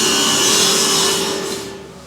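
A 71 millimeter hole cut in HDO board for a feeder jar: a loud, steady power-tool whine with a grinding, rasping edge that fades out near the end.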